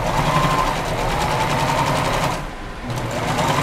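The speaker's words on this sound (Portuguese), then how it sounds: "viro e costuro também fechando essa lateral" A sewing machine stitches closed the side of a fabric hair band, running loud and close in a fast, even whir that dips briefly near the end before picking back up.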